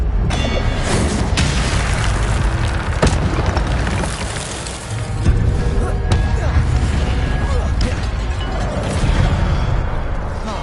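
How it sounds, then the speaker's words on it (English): Incendio fire spell effect from a Harry Potter video game: loud, dense booming bursts and whooshing flame blasts that continue nearly without pause, with game music or effects layered underneath. "Incendio."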